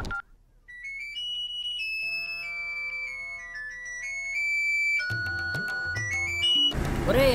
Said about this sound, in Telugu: ఫోన్ ఎత్తరా